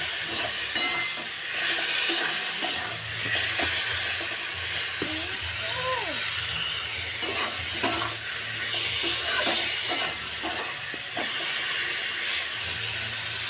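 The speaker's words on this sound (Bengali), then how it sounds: "এখানে আমি আলুটাকে একটু বেশি করে কষিয়ে নিলাম" Potatoes sauté with salt in a pan, a steady soft sizzle with occasional stirring scrapes throughout, no talking.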